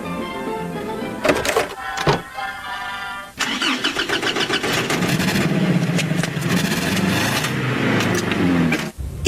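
A cartoon Jeep's engine cranks and catches, then revs loudly and steadily for several seconds, close and dominant before cutting off abruptly.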